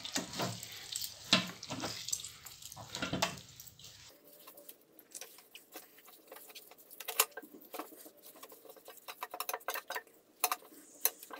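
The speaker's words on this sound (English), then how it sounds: "Keep squeezing until I have all the liquids out." Liquid is squeezed by hand from date pulp while making date molasses, giving wet, squelching patter and dripping in irregular bursts, close and fairly quiet.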